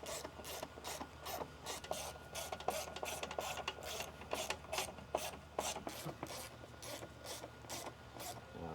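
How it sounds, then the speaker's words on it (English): Screws are driven back into a part of a Mercedes/Dodge Sprinter van, giving a quiet, rhythmic scraping and ratcheting that repeats in short even strokes close by. "Now we're going to screw them back in."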